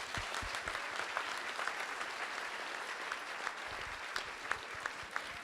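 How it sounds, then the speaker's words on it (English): A summit audience gives a round of applause, a steady dense patter of clapping from a crowd, heard from a distance and fairly quiet. "Could you give Pearl a round of applause, please?"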